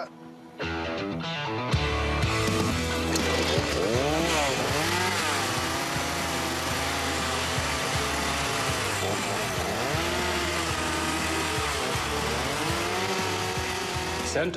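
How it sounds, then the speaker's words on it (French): A loud chainsaw engine roars continuously with rising and falling pitch, harsh and close, after a brief quiet start. "Voyons comment tu te débrouilles avec la tronçonneuse."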